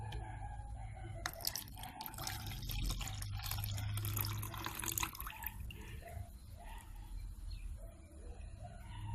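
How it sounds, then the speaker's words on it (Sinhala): Soaking water poured off swollen cardamom seeds into another container, a steady near splashing trickle with drips, running without pause and no voices. "දැන් අපි මේ වතුර ටික ඉවත් කරගමු වෙනින් භාජනයකට"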